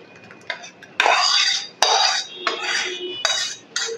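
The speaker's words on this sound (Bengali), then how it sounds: "একটা বোল নিয়ে নিলাম। আর ডালটাকে ঢেলে দিচ্ছি।" Cooked chana dal poured from a pot into a bowl, with loud close clanks of metal cookware and a serving spoon in several bursts, no talking.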